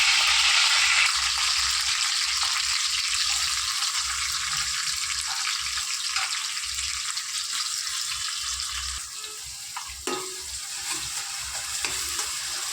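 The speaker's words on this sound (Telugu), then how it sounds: "ఇప్పుడు ఉల్లిపాయల్ని బాగా ఫ్రై చేసుకుందామండి." Onions fry in a pan with curry leaves, a dense, loud sizzling hiss that carries on steadily, with a few stirring scrapes near the end.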